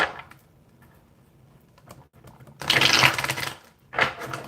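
Tarot cards are shuffled in a quiet room: soft scattered ticks at first, then a loud dense riffle of card edges lasting under a second, and a second shorter burst soon after.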